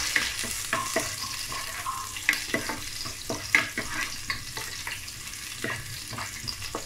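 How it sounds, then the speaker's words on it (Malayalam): Green chillies dropped into a pan of well-browned garlic for vegetable fried rice, crackling and sizzling close by while a spoon stirs in a run of quick, irregular scrapes and taps, with no talking. "ഇനി ഞാൻ ഇതിനകത്തേക്ക് പച്ചമുളക് ഇടുകയാണ്."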